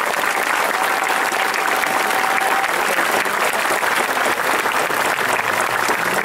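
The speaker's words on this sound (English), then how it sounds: "Please join me again in a round of applause for our MTI, the best we have." Sustained applause from a large audience at a military ceremony honoring training instructors, a steady, loud, even roar of clapping filling the whole stretch without a break.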